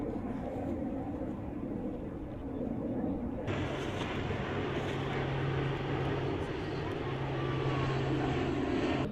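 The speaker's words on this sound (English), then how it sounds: "friendly aircraft." A military aircraft drones overhead during a troop exercise, a loud continuous engine roar that swells partway through and holds steady to the end.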